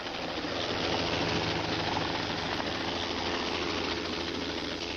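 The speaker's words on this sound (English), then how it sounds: "the chopper took Eric Beecham and Melissa Sullivan to safety" A rescue helicopter flies over a steep cliff slope at Pacoima, its rotor and engine roar steady and loud throughout, with no pauses or talk.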